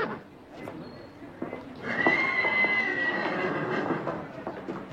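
A racehorse gives a long, loud whinny that rises and holds with a clear tonal cry, set among hoof clops and stable movement, with voices nearby.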